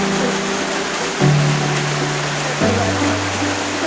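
A brook in the Ecuadorian Amazon rainforest flows steadily with a broad, continuous rushing wash, close and even throughout, with low tones shifting underneath.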